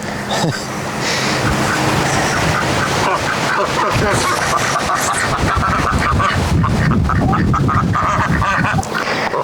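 Ducks quack busily in a backyard garden, a loud, close, continuous chorus of overlapping honks and quacks that lasts throughout.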